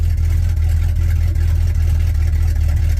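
An old Chevy engine idles with a lumpy cam, a loud, close, steady low rumble with a rhythmic uneven lope and no talk.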